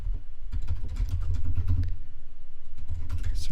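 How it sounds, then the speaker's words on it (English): Typing code on a computer keyboard, a close, steady patter of individual key clicks in quick irregular rhythm with a few short pauses, heard alone without talk. "So this code that I'm typing in here is basically coming straight out of that documentation."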